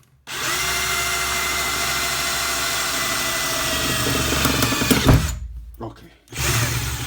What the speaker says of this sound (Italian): Provo a forare.